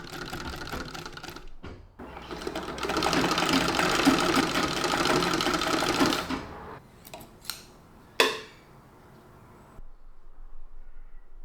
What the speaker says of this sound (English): I just peppered this scrap with as many lines of stitches as I could fit on it, getting a feel for the machine